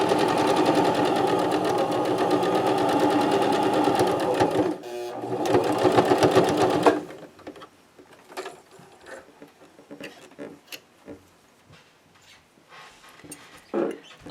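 Sewing machine stitching the binding onto a quilt, a loud steady mechanical whir that runs for about seven seconds, briefly stops and restarts, then cuts off, leaving faint handling clicks and rustles.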